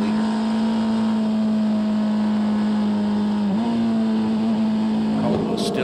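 A Le Mans prototype race car, the number 93, runs at the 2023 24 Hours of Le Mans with a loud, steady engine drone whose pitch dips briefly mid-pass and then resumes, a commentator talking over it throughout.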